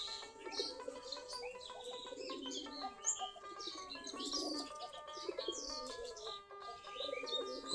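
Free-ranging Giribaz pigeons coo softly from a mango tree and a rooftop nearby, with overlapping rolling coos and occasional chirps from other birds, a steady, fairly faint outdoor chorus.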